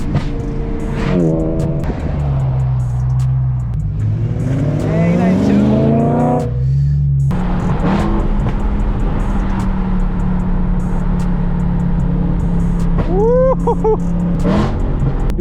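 A BMW E92 M3 heard from inside the cabin while driving, its engine droning steadily and climbing in pitch through repeated revs and shifts, loud and close throughout, with occasional voices under the engine noise.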